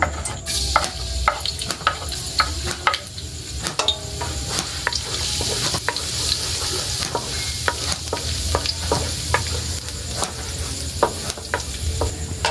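Garlic sautéing in a pan for a ginisang tabyayong dish with sardines and bagoong, a steady close sizzle and frying hiss broken by sharp clicks and scrapes of a utensil stirring against the pan, with no talking.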